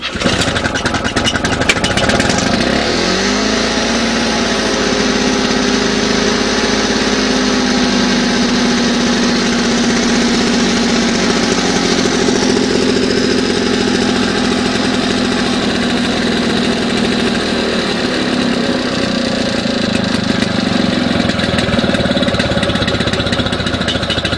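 A Victa lawn mower engine with a plastic G4 carburettor catches and runs at full throttle, a loud, steady high-pitched drone that holds unbroken for over twenty seconds with no talking.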